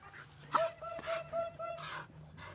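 An Entlebucher Mountain Dog gives short barks and whiny yips close by, mixed with people's voices exchanging greetings.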